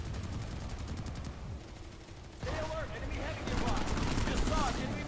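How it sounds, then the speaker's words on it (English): A manned gun turret firing at someone in the video game Planetside 2, delivering rapid bursts of automatic fire in rattling volleys, with a pause mid-stretch before heavier firing resumes, mixed with game noise. "that gun has a person in it and is shooting at a person or something"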